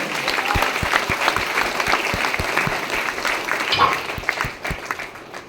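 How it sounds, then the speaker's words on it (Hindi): Seminar audience applauds in a steady, dense burst of clapping lasting several seconds, with a few louder individual claps standing out and some voices faintly mixed in. "तो ताली कैसे होना चाहिए?"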